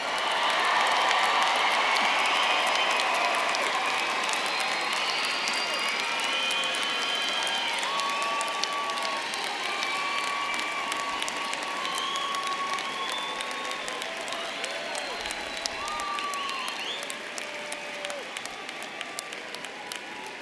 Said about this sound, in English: Now, a round of applause for the MSW graduates.